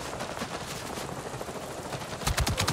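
Gunfire in Avatar: Frontiers of Pandora breaks out during a base defense: a soft, cluttered combat bed gives way near the end to a quick burst of several sharp, loud shots.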